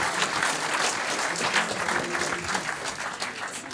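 An audience at an industry launch event gives sustained, even applause that stays full and dense from start to finish, with no break.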